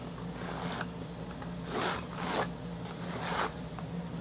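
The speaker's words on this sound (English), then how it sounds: "then we'll cut our spar" Someone cuts the spar for a 40-inch FOHDY model aircraft wing. Three or four slow, scratchy rasping strokes sound up close over a steady background hum, and no one speaks.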